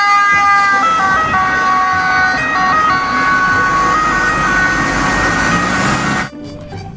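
Toy ambulance siren wailing loud and close, a repeating two-tone electronic pattern held steadily for about six seconds before it cuts off abruptly, with no talking over it.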